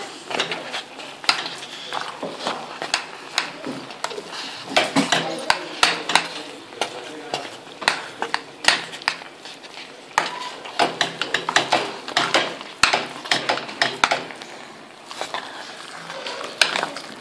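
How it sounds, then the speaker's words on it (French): Meat with aubergines and potatoes stirred in a pan, a utensil scraping and clinking against the metal in a steady run of sharp scrapes and taps, close and fairly loud, with a voice speaking at moments. "Et on va tout remuer jusqu'à ce que la viande soit parfaitement cuite."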